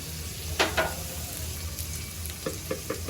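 Spice paste sizzles lightly in a pan during a beef tripe bhuna, steady frying crackle with a few sharp stirring scrapes and spoon clinks near the start and end.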